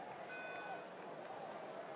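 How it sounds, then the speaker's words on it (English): A malfunctioning siren sounds at a stadium during a 2019 college football game, Charlotte at Appalachian State: a faint, steady electronic tone rises over a constant crowd hum, with broadcast commentary underneath. "If you hear that siren and you've checked your car outside a few times to see whether it's you"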